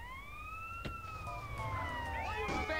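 Police siren wailing during a GTA San Andreas chase, rising and falling in sweeping tones that hold steady and then multiply near the end, loud against constant game engine rumble.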